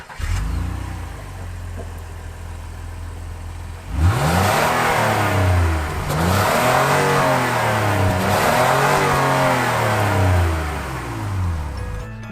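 2019 Acura MDX A-Spec engine revving through its large exhaust, starting from a low idle rumble, then rising sharply into loud repeated revs that swell and fall several times, close and alone.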